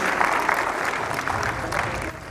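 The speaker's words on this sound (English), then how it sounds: "a round of applause for Nyamohanga and our amazing panelists as they walk off stage" An audience at the Safaricom Engineering Summit applauds steadily as panelists walk off stage, a dense, even wash of clapping heard on its own.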